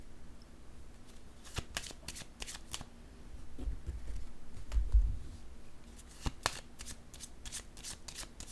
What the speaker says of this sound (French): Je vais déposer une carte sur celle-ci